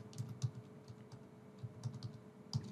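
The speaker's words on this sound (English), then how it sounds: "So I'm just typing here testing description." Keys clack on a computer keyboard as a meeting description is typed, with quiet, irregular taps in short bursts and pauses, close by and alone with no speech.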